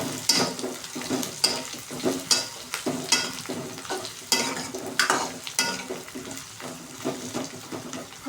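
Onions sizzle steadily in a pan while a spoon stirs them in regular scraping strokes, close and fairly loud, with no talking.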